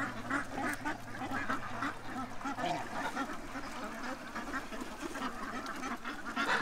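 A flock of farm ducks quacks continuously on a pond, a dense, overlapping chorus of nasal calls heard at moderate distance with no talking.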